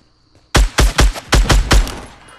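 Six loud, closely spaced gunshots in a Fortnite Battle Royale match ring out in a quick, slightly uneven volley after a brief quiet moment, each a sharp broadband crack with a short decaying tail.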